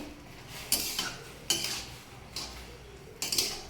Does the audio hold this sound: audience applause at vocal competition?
no